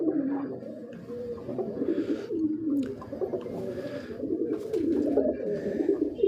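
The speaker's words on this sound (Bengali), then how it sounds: "এই যে দেখেন কবুতরগুলো, আমার কবুতরের কালারগুলো অনেক সুন্দর।" Domestic pigeons coo in soft, repeated low-pitched rolling calls that overlap one another. The birds sound close and there is no talking.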